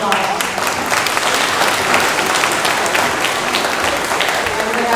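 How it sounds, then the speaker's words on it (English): An audience claps at a school dedication ceremony at St Andrew's School of Math and Science, with loud, sustained applause. A few voices can be heard faintly underneath. "give me a round of applause"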